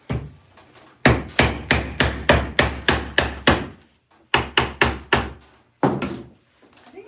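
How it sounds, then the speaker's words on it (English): Thin pine shiplap on a cabinet being hammered: sharp, close wooden blows landing in two quick runs of about eight and four strikes, then a single hit, with no talking. "I'm just going to hammer it."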